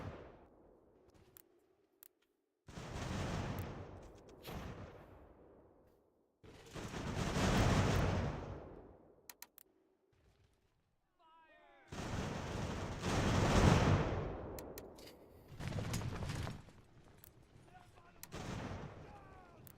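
Cannon and musket volleys crash in an American Revolution battle in the strategy game Ultimate General, sounding as repeated loud bursts that swell and decay over several seconds, separated by quieter gaps with faint distant shots.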